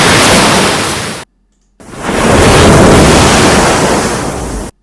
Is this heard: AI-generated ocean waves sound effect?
yes